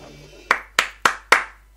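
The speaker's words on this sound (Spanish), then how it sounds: "Me aplaudo a mí mismo y todo" One person claps four times in quick succession, close and crisp, each clap sharp with a brief decay, against a faint low background hum.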